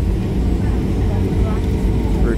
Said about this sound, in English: We're taxiing.